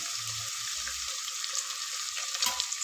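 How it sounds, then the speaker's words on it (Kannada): Beans stir-fried in oil with onion and chillies for pulao, giving a continuous hissing sizzle with a few soft spoon scrapes and taps near the end. "ಬೀನ್ಸ್ ಹಾಕ್ಕೊಂಡು ಒಂದು ಸತಿ ಎಣ್ಣೆಯಲ್ಲಿ ಫ್ರೈ ಮಾಡ್ಕೊಳ್ಳಿ"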